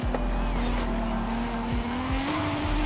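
Tires squeal through a NASCAR stock car race in Forza Horizon 5, a rising sustained tire whine over a loud, steady engine roar with no break for the whole stretch.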